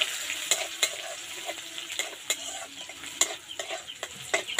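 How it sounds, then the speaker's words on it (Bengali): Black mustard seeds and chopped green chillies frying and sizzling in a pan while a spoon stirs them, a hiss running throughout under sharp, irregular metallic scrapes and taps, close and clear with no voices. "একটু ভালো করে নাড়াচাড়া করে নেব"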